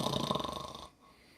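A voice imitates a sleeping character snoring during a tabletop roleplaying session: one short, rattling snore lasting under a second, then near silence.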